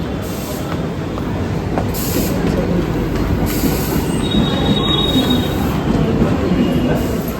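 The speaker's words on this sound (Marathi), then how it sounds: "आणि इकडं ट्रेन येते" A crowded Mumbai local train rolls in with rumbling wheels, a metallic high-pitched squeal rising above the steady roar; loud and sustained, no talking.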